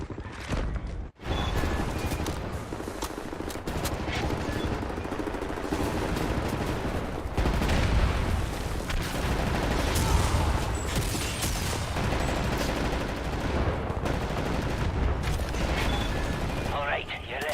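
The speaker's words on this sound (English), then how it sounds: "Right, lads, you ready to lay down suppressor fire?" Sustained suppressive gunfire in a shooter video game, dense overlapping bursts of rifle and machine-gun fire rolling on almost without pause, loud and close, with a brief gap near the start.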